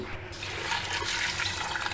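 Water rushes and splashes steadily into a pressure cooker holding rice, a continuous close-up pouring sound with no talking.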